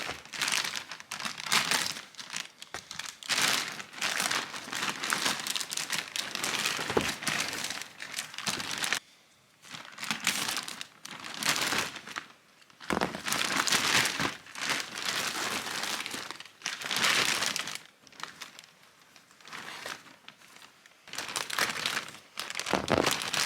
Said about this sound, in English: But let's get it out of the plastic and see what it looks like.